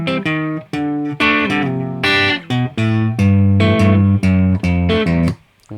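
Electric guitar plays the opening two bars of a song, a quick run of bright, sustained notes and short bends, loud and close, with brief gaps between phrases.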